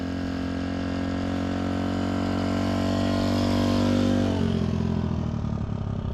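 An original Honda 50 Super Cub with a 3-speed gearbox rides in first gear, its small engine giving a steady, close, buzzing drone that drops in pitch and becomes rougher near the end.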